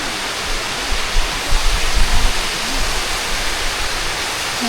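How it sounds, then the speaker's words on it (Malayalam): Somersby Waterfall in Australia roars with a constant, full-bodied rush of falling water, loud and unbroken, with a slight swell of churning near the middle. "നല്ല വെള്ളത്തിൻ്റെ ഇരമ്പിൽ കേൾക്കാം കേട്ടോ"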